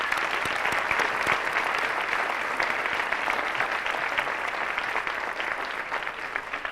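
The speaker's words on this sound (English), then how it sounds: "Applause for these folks, please." Sustained applause from a large standing audience for graduates at the UA South 2004 commencement ceremony in Pima County, steady dense clapping filling the hall throughout without a break.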